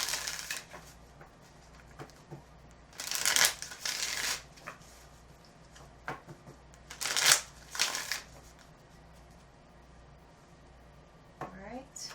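Tarot cards are shuffled in a few quick riffling bursts, with soft handling noises between them and a faint voice near the end.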